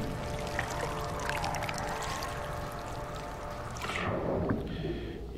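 Diving underwater in the video game No Man's Sky, a steady rushing, bubbly water wash that turns muffled and hollow near the end as the view goes below the surface.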